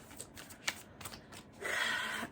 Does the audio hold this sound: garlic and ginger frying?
no